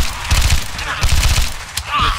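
Rapid bursts of gunfire from a zombie-shooting video game, loud and close, with repeated volleys and a few sharp isolated shots, while faint voices sit underneath.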